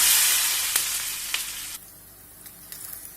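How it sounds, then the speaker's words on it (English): Noodles dropped into about three tablespoons of hot vegetable oil sizzle loudly at first, then settle into a softer, steady frying hiss broken by a few sharp crackles and pops. "This is about 3 tablespoons of vegetable oil that I've heated up, and I'll add in the noodles."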